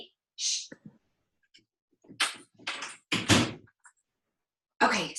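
A door closing indoors on a rainy day, with several close thumps and clicks as it shuts and latches, scattered among brief bits of nearby voice and shushing.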